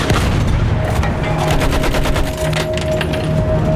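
Sustained machine gun fire in a Battlefield 1 battle, rapid continuous bursts layered over a dense roar of combat noise, loud and close throughout with no break.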